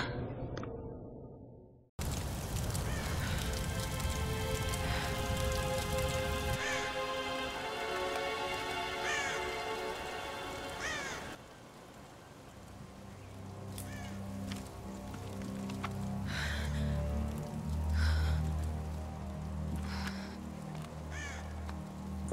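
Steady rain patters and hisses in the video game Tomb Raider (2013), a continuous wash of drops with crow-like caws and a low rumble joining partway through.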